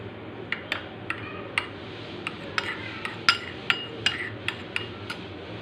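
A spoon mixing an aloe vera face mask in a small bowl, producing light irregular metallic clinks and taps close up over a quiet background.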